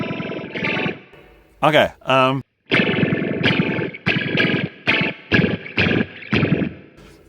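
Guitar run through a Flamma Mod modulation pedal with the effect turned all the way up, a choppy, warbling and distorted tone in short bursts, with a few wild pitch-swept blips and a brief spoken word at the start.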